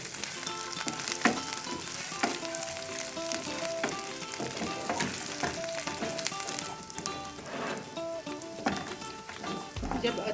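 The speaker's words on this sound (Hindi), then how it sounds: "अब इसमें हाफ चम्मच साबुत जीरा डालें, 1 पत्ता कड़ी शामिल करें और इसे ब्राउन होने तक फ्राई करें।" Cumin seeds and a curry leaf fry in hot oil with a steady, close sizzle and crackle, punctuated by clinks of stirring, alone without talk.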